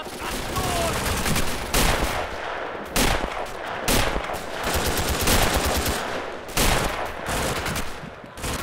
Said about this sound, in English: Ooh, MG fire from the building.